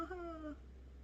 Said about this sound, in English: you may hear my cat